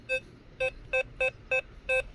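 An XP Deus 2 metal detector gives six short, identical beeps through headphones, evenly spaced and fairly faint against a quiet background.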